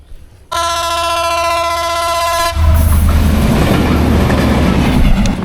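A train rumbles past close by on a northern Bangladesh railway line, a steady horn-like tone at first giving way to loud, broadband clatter of wheels and cars rolling along the track.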